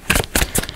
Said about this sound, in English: I just want to shuffle these again.